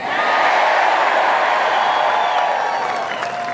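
A large outdoor rally crowd in Butler, Pennsylvania cheers and claps in a loud, sustained roar with whoops threaded through, easing off slightly toward the close.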